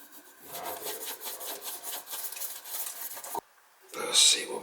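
A sponge scrubs a kitchen sink during a faucet installation, giving rhythmic rubbing strokes that stop abruptly and then resume briefly, close-up.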